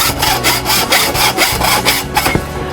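A handsaw blade cuts steadily through wood in close, loud, rhythmic back-and-forth strokes, about two per second, during a skills test at a German trade workshop.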